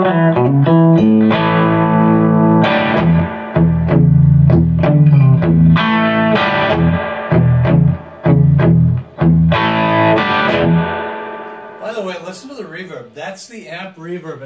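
Electric guitar with humbucker pickups, played on the bridge pickup through a Carr Super Bee 1x12 combo amp with its reverb set low: chords and single notes ring out loud and close, with a reverb tail trailing as the playing stops near the end.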